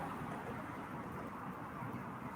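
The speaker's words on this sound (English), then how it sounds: "Big drops, big monsoon drops." Big monsoon raindrops fall steadily during an Arizona desert storm, a continuous wide hiss of rain with a low rumble beneath, no voices present.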